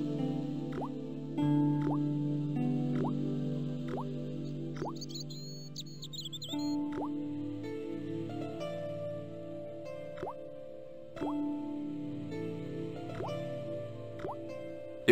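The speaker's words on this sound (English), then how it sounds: "I shut off the faucet as tight as I could, but it kept on dripping." A rusty faucet in the Broken Sword adventure game drips steadily, each drop a sharp, clear plop at a slow, even rhythm, heard close over a soft, sustained musical background.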